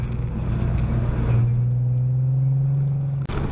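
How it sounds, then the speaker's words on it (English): A Mazda Miata at a Lime Rock Park autocross revs steadily across the start-finish line, a sustained droning engine note that holds, then cuts off abruptly near the end, heard from a distance over road rumble. "There's the Miata going across the start-finish line, and you probably heard it just rev up and tack out again."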